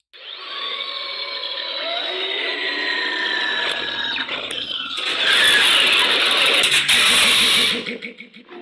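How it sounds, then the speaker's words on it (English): Podracing sound effect played from a Proffie lightsaber soundboard in a Hand of the Emperor saber: a loud, sustained whining engine roar with rising and falling pitch sweeps, swelling into a harsher, brighter blast before cutting off. "They're pod racing on Malastare."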